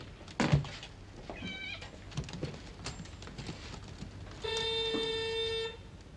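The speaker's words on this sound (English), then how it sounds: "Get rid of this damn cat before I wring its neck." A cat meows a few times in a domestic scene from a period detective drama, with other household noises and a sustained tone near the end.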